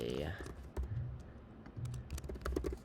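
Keystrokes on a computer keyboard, a quick irregular run of close, crisp taps with a voice talking over the start.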